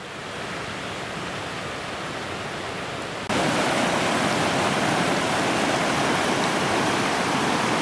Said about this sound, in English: Well, this could be Grizzly Creek.